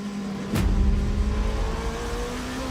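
A race car at Le Mans runs flat out through fourth and fifth gear, its loud, close engine bursting in sharply and then climbing steadily in pitch, with no voices.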